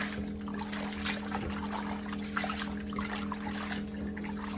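Pork pieces are rinsed in cold water, a soft continuous trickle and sloshing of liquid, fairly quiet with a steady hum underneath.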